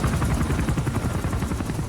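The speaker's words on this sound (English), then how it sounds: "Man, these helicopters are way too loud." Helicopters in the video game Metal Gear Solid V thump with loud, fast, rhythmic rotor chopping that runs steadily throughout.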